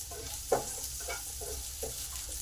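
Chopped onions frying in a pan for restaurant-style chili chicken, a soft steady sizzle with a few quiet stirring clicks and scrapes, moderately close, with no talking.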